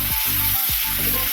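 Garlic paste and onion paste frying in oil for a fish curry with aubergine, a loud close hiss of sizzling, lightly broken by stirring, with no talk.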